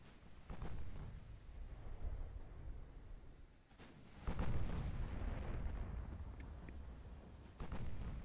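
Naval gunfire in a battleship game: heavy booming salvos, including 8-inch guns, roll out in several deep blasts with rumbling tails, one big report near the middle and another toward the end.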